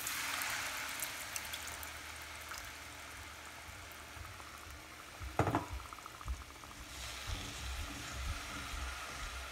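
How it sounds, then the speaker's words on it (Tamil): Tamarind water pours and splashes into a clay pot of fish curry over a steady simmering bubble, with a brief louder splash midway; no voices. "I'm going to add the tamarind water, extract of tamarind water."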